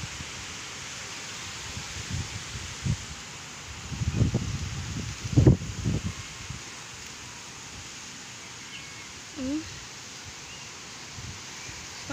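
Steady broadband wind roar rushes throughout, with a few louder gusts buffeting past in the middle and no voices.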